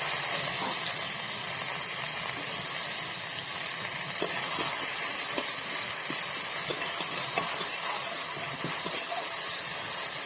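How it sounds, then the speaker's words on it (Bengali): Onions frying in oil in a kadai (wok) give a steady, close sizzle and hiss with small crackles and pops, heard alone throughout. "আমি কড়ার মধ্যে তেল দিয়ে দিয়েছি, দিয়ে পেঁয়াজ দিয়ে দেবো।"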